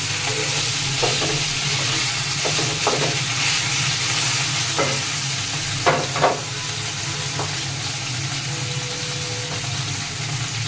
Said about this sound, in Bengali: রুই মাছ ভাজবো আজকে।